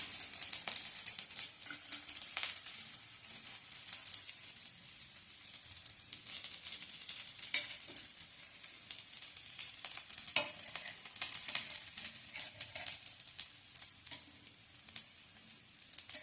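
Alu vadi, colocasia leaf rolls, shallow frying in plenty of oil on a flat pan, giving a steady close crackling sizzle with bright popping bursts throughout and no voices.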